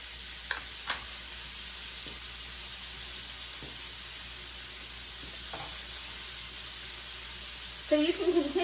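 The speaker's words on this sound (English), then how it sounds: "So you can continue to fry these on the stove" Mini burgers topped with Swiss cheese fry on a stovetop with a steady, close sizzle, a few faint ticks and clinks over the hiss, and a brief louder burst of frying near the end.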